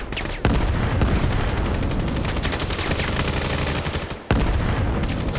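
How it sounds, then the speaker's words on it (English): Dense, continuous gunfire from the tactical shooter game Vail during a four-player push through tunnels in a competitive qualifier match, with rapid automatic bursts layered over each other almost throughout and a brief near-silent gap partway through. "There's a lot of gunfire, just a lot of stuff going on"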